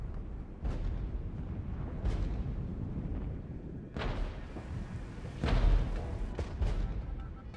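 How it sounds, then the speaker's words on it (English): Artillery fire in the video game Regiments, several heavy booms and bursts landing at intervals, some distant and some closer, over a low rumbling battlefield ambience. "the artillery spam is on point now"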